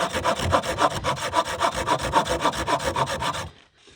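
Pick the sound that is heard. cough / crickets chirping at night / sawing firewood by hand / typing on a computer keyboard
sawing firewood by hand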